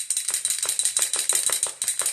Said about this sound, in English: after you shake it up, you just spray it.